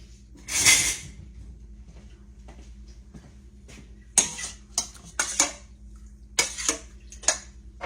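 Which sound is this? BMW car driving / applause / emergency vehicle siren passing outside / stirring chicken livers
stirring chicken livers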